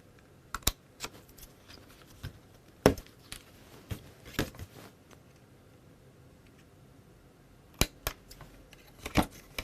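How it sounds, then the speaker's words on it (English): Scissors snip through papercraft card in a few sharp, close clicks spaced irregularly, with quiet handling noise between cuts and no talking. "I'm just going to take my scissors and snip it off"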